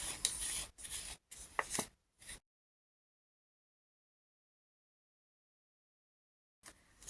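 Pigment powder is worked into gum arabic for homemade watercolor, producing short scraping, rubbing strokes in quick bursts, then silence, with a brief return at the end.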